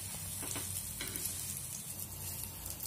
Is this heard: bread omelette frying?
yes